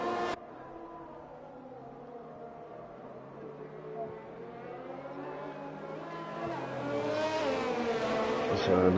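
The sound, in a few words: GP2 race cars driving in a racing video game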